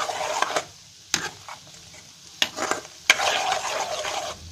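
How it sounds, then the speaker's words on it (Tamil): Butter cooks down into ghee with drumstick leaves in a pan, with a steady bubbling sizzle broken by sharp utensil clinks and stirring scrapes, close and moderately loud. "இந்த சலசலப்பெல்லாம் அடங்கிருச்சுன்னா நமக்கு கரெக்டான பதம் வந்துடும்."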